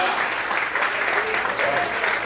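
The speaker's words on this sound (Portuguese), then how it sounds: "Quantos podem aplaudir e exaltar a Deus nessa manhã em nome de Jesus?" Sustained applause from a large church congregation at a morning service, steady and dense clapping filling the whole stretch without a break.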